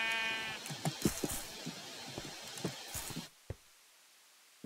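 Sheep in the DragonFire video game bleat repeatedly, several short overlapping calls in quick succession, fairly close and loud before cutting to near silence with a couple of isolated knocks.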